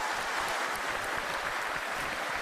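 Steady, dense applause from a studio audience at an Indonesian televised talk show, a continuous wash of clapping at moderate loudness with no pauses for its whole length.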